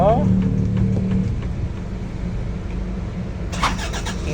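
A 2025 Toyota Commuter 3.0 van with manual transmission cranks and catches, its engine settling into a steady low idle that runs throughout, with a brief click near the end.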